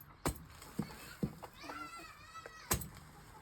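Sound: chickens let out of the coop

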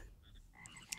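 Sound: frogs croaking in the video game ShellShock

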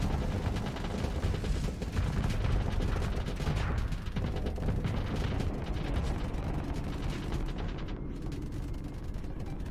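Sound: spaceship weapons firing in Starsector video game

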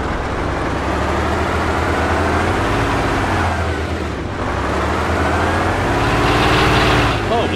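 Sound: video game vehicle engine revving

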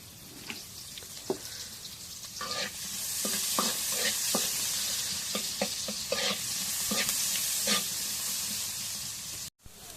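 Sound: fish pieces frying in oil in a wok

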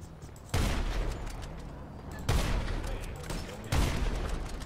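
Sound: gunfire while shooting people in GTA 5 video game

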